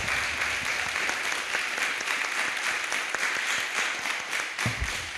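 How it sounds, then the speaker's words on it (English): An indoor audience at an evening start-up event claps steadily in a dense, sustained round of applause that fills the room at moderate loudness, with no one speaking over it. "can we please give the IEN team a round of applause for organising this evening?"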